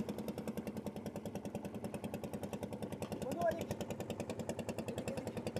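A fishermen's boat engine on the Padma River chugs past in a fast, even pulsing rhythm that is steady and moderately close, with a slight swell midway and no talk.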